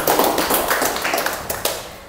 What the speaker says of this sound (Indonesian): Tepuk tangan untuk kelompok 1 dan tepuk tangan untuk kita semuanya